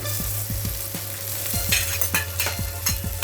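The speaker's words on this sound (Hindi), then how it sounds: "ये काजू भी हम ऐड कर देते हैं। अच्छी तरह काजू भी इसके साथ भून जाएगा।" Cashews and garlic frying in oil in a pan for a vegetable handi, a steady close sizzle with a spoon repeatedly scraping and stirring in quick, irregular strokes.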